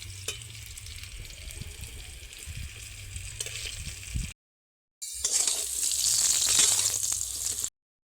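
Potatoes fry in hot oil in a pan and are stirred, giving a continuous close sizzle with scraping stirs. The sound breaks off briefly, then returns louder and hissier.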